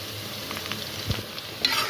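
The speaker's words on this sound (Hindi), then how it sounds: "जब तक लहसुन की स्मेल नहीं जाती हम इसको जो है वो साथ ही फ्राई कर लेंगे" Browned onions with chopped ginger and garlic frying in a pan for chicken karahi, a steady close sizzle with a few soft stirring scrapes.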